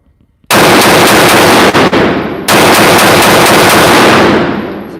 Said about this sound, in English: I'll give it a round of 10 shots.